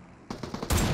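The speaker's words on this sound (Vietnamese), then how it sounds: "Đây này mình thấy có bọn nó bắn nhau rồi này." Gunfire in the mobile battle royale game PUBG Mobile: a quick burst of several shots followed by a louder, denser volley, moderately close and heard alone.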